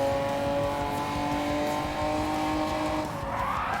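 A race car engine drones steadily at high revs while tires squeal toward the end, from the video game Gran Turismo 7 on PS5, with no talking.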